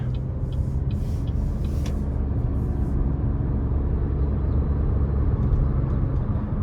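A 2023 Chevrolet TrailBlazer ACTIV with the 1.3-litre turbo engine and CVT accelerating under light throttle, a steady low engine drone and road hum heard from inside the cabin, with no talk.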